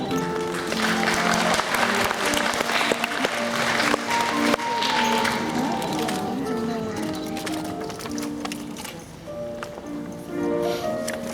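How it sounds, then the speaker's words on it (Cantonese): Sustained applause from the audience fills an awards segment of a primary school graduation ceremony in Tuen Mun, Hong Kong, held in a hall. The clapping is dense and steady throughout, mixed with voices and other tonal sounds. "請再以熱烈嘅掌聲鼓勵獲獎嘅同學。"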